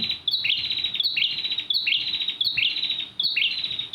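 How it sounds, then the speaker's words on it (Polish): Small birds sing close by at a waterfall in west Lombok, Indonesia, repeating a bright, high chirping phrase in a steady rhythm, several times over. "śmieszne ptaszki przyleciały"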